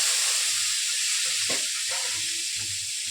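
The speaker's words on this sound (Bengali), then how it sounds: "পাটিসাপটাটা ভেজে নিচ্ছি গ্যাসে" Patishapta pancakes with a coconut filling fry in a pan over a gas stove. A constant bright hiss runs throughout, with soft scraping and bursts of sizzle scattered across the second half.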